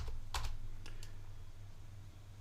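A few quick, faint keystrokes on a computer keyboard, soft isolated clicks over a low background hum.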